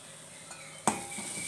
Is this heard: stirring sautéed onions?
yes